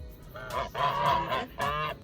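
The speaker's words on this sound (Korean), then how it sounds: "근데 거위는 늘었네. 원래 두 마리밖에 없었는데." Geese honk in a few loud, nasal bursts close by, with a short pause between calls, at an outdoor school grounds visit.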